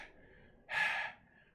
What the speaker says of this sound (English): breathing heavy, bro.